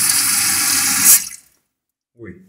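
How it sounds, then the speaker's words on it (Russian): Water gushes steadily and loudly from a tap after an inlet valve repair, then stops abruptly into silence, followed by a brief voice. "Открываем воду,"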